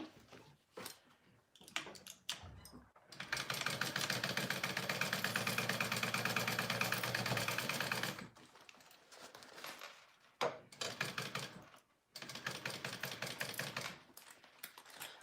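A sewing machine runs in bursts as it stitches a fabric sling seam: a steady, close mechanical whir for about five seconds, then shorter runs broken by pauses and small handling clicks.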